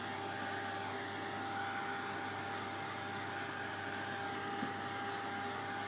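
A heat gun blows steadily at a craft table, a continuous even airy whoosh with a faint motor hum, holding at a constant level for several seconds with no talking.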